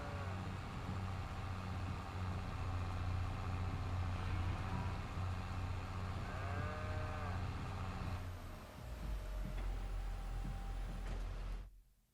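Cattle low in the farming video game Farming Simulator 22 on the Swiss Erlengrat map, long drawn-out moos rising over a steady engine-like drone that drops away near the end.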